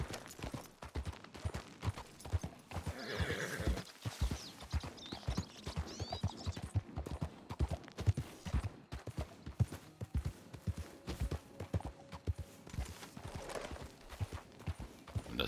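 Rapid, rhythmic hoofbeats of a galloping horse in Red Dead Redemption 2 Online, steady and close throughout, with an occasional snort.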